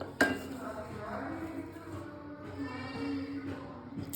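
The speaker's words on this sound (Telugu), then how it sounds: "ఈ వేగిన ఆనియన్స్ని ఈ మిక్సీ జార్లోకి తీసుకోవాలి" Fried onions are scooped from a pan into a mixer jar while preparing egg pulusu, giving close metallic clinks and scraping of a spoon against steel. The scraping runs steadily for a few seconds under soft background noise.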